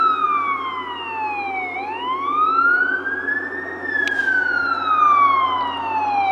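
Rural fire service emergency sirens, a loud wailing tone that sweeps down, climbs back up and falls again, heard at a moderate distance over low road rumble with no talking.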